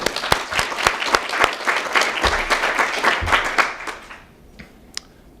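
A conference audience breaks into loud applause, many hands clapping densely for about four seconds before tapering off into a few scattered claps.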